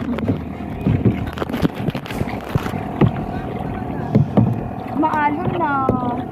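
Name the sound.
paddling a canoe on choppy water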